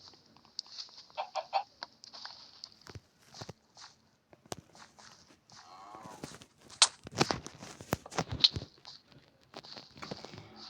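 Minecraft chicken clucks pop up in short bursts among soft pattering steps and clicks, fairly quiet, with brief gaps of near silence.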